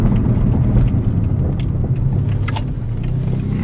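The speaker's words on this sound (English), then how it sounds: "the transmission is shifting a whole lot more smoothly" A 2005 Chrysler Sebring drives along with a steady, close engine and road rumble from inside the cabin, its automatic transmission shifting smoothly without any clear break in the sound.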